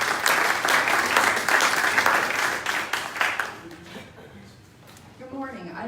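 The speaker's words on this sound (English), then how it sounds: "So round of applause." A room of people applauds a speaker at a 1 Million Cups startup event in Daytona Beach. The clapping is thick and close for about three seconds, then fades out as a voice begins speaking.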